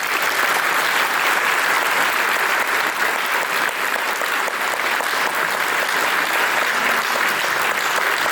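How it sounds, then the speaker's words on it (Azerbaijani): Sustained, dense audience applause after a poetry reading fills the room evenly and loudly, many hands clapping at once without pause. "əl çalmaq yaxşı ki, xoşuma gəldi"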